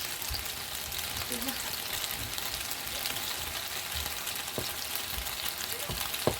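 Gyoza frying in a pan give a steady, dense sizzle and crackle throughout, fairly close and even, with a few soft knocks and no clear talk over it.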